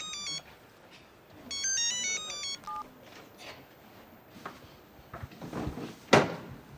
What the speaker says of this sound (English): I know you know it is a phone. But it is ringing